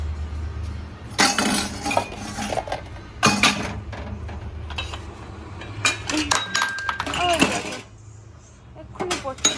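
Breakfast dishes and utensils being scrubbed, including pots, giving bursts of metallic clinks and clatters separated by quieter stretches, with some talking.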